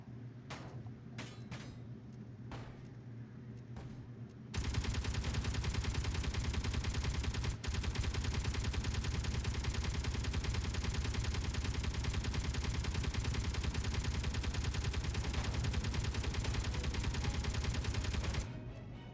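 Sustained rapid turret gunfire from Space Engineers on a wasteland survival world, starting after a few sparse isolated shots and then hammering continuously and loud for about fourteen seconds before cutting off.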